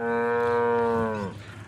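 A cow at a cattle sale in Adipur, Kutch, lets out one long, loud, close moo that holds steady and then drops off at the end, with no talk over it.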